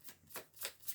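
Playing cards being shuffled close up in three quick riffling bursts, each a bright crisp flutter, with no one speaking.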